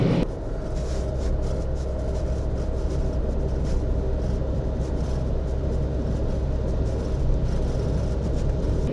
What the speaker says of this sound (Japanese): 慎重にエンジンブレーキかけて降りていきます